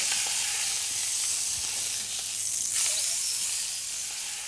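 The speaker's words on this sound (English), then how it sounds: "our shoulder goes into a hot pan to caramelise the surface of the meat" Pork shoulder sizzles loudly and steadily in a hot pan, a dense continuous hiss with a brief clink partway through.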